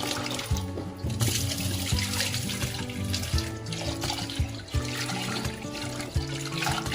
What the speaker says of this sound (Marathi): तर असं चांगलं एकदम पाण्याने धुवून घ्यायचे डाळ.